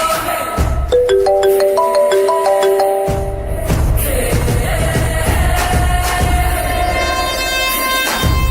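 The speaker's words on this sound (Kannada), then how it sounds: "ರಿಂಗ್ ಆಗ್ತಿದೆ, ಆದ್ರೆ ಅವ್ರ ಫೋನ್ ರಿಸೀವ್ ಮಾಡ್ತಿಲ್ಲ." A phone rings unanswered, its electronic ringtone melody stepping through rising tones and then repeating in a loop, loud and steady over an indoor background.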